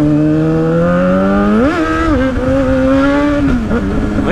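Suzuki SRAD 750 motorcycle accelerating up close, loud engine note climbing steadily, then a quick rev blip and a drop before it rises again.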